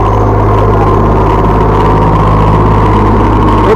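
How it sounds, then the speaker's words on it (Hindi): A tractor engine rumbles loud and steady as it tows a minibus out of a flooded underpass, a continuous low, close drone with no pauses and no talk. "बस जो है ट्रैक्टर से निकालनी पड़ रही है।"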